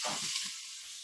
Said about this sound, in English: you can just dump the carrots, celery, and onions right in